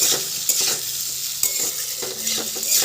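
Amla pickle with spices and salt being stirred in a pan, a soft continuous sizzle broken by repeated scraping clicks of the spoon, close and alone without talk.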